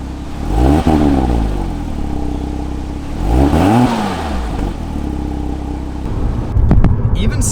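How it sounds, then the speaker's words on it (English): A 2006 Porsche Cayman S mid-engine car revs up in strong, rising sweeps, pulling hard through the gears with a brief drop between pulls; loud and close, heard from inside the cabin. "It's a very unique sensation of just hearing engine noise"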